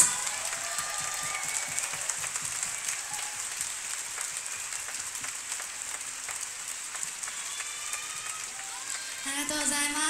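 A large arena concert crowd applauds steadily and evenly throughout, a dense wash of clapping at moderate level, with brief bright musical tones near the end.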